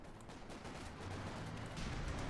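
Distant gunfire crackles in a Company of Heroes 2 battle between Wehrmacht and British forces, scattered shots and rumbling bursts over a continuous dense bed of battle noise.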